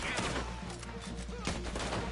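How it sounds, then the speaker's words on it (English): Gunfire in Red Dead Redemption: a dense, noisy volley of shots in quick succession, loud and close, with a burst near the middle, against busy game sound. "Oh, I'm getting shot at. I'm getting hurt."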